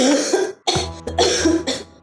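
A few harsh, loud coughs from a man with a mild fever in quick succession, close up, with a short pause between bursts.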